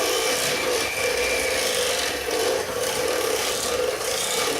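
Batter of flour and milk worked in a bowl, a continuous scraping, rubbing swish of the utensil against the bowl, close and fairly loud, with slight swells in rhythm and no talk.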